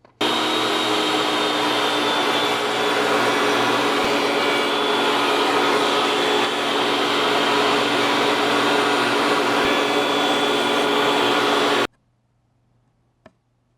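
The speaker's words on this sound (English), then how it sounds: "I'm just going to round it over 1/16 of an inch on each side on the router table." A router table rounds over the edge of an eighth-inch board, a loud, steady high-pitched whine with cutting noise for about twelve seconds before stopping abruptly, leaving near silence and a faint click.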